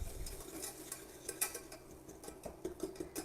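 Brown sugar being stirred into a sticky date pudding batter in a bowl, with soft scraping and clinking strokes at an irregular pace, close and fairly quiet.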